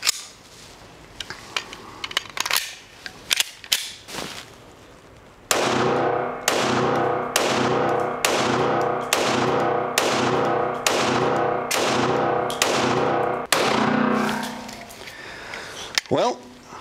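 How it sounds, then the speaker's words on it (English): A Ruger 57 pistol fires 5.7 cartridges at a range with a rental counter: after some scattered clicks and distant pops, about nine sharp, loud, evenly spaced shots ring out with reverberant tails. "So I'm gonna shoot it for the first time."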